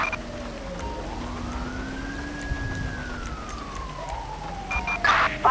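A wailing ambulance siren in Grand Theft Auto V with the LSPDFR mod rises and falls in long sweeps, steady and fairly close, with a brief clatter of other noise near the end.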